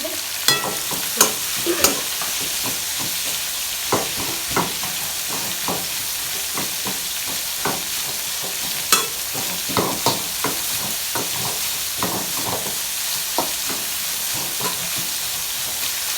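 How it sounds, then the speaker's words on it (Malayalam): Sliced onions fry in a pan at home with a constant close sizzle, while a spatula stirs them in repeated scraping, clicking strokes spread unevenly throughout; no one talks. "ഉള്ളി നല്ലോണം വാടട്ടെ ഉള്ളി നല്ലോണം വാടണം"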